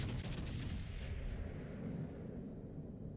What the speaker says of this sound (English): We'll shoot other ships, but we don't shoot Bree.